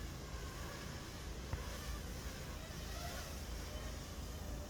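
A GPS-guided quadcopter drone running Betaflight hums with a steady, high buzz as it comes down and lands vertically, heard from a moderate distance with wind noise.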